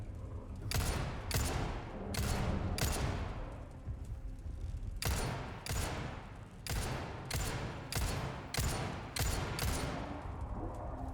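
Gunfire rings out in a video game, coming in loud, rapid bursts of sharp shots in two clusters with a short lull between them.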